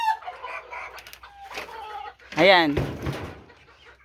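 Chickens on a small poultry farm in hot weather cluck softly, then a rooster lets out a loud, close crow, with someone speaking over the birds.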